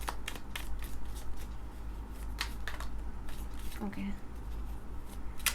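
Tarot cards are shuffled in quick, crisp bursts of riffling and flicking, close and fairly quiet, while someone speaks briefly over them.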